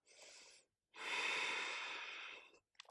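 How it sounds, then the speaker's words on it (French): Deep exhalations through the mouth during a yoga session: a short breath, a pause, then a long, steady, close breathy outflow lasting over a second, with a quick intake at the end. "Expirez par la bouche."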